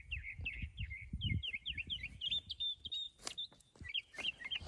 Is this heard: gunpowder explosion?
no